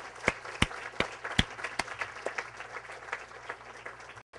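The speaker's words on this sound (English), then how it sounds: "I'd like a large round of applause for Ivy and Julia, who put this all together." Audience applause at an awards summit honoring two event organizers, a spread of claps with several sharp individual claps standing out, fairly faint and distant, fading to silence at the end.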